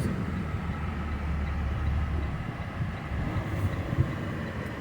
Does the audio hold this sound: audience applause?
no